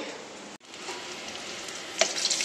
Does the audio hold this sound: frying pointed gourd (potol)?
yes